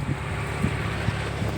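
A motor boat travels on a backwater lagoon, its engine a steady low drone with wind buffeting the microphone throughout, heard alone without talk.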